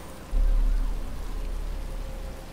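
Rain falling in the Batman: Arkham Asylum video game, a steady low rumbling wash that swells early and then holds at an even level throughout, with no voices.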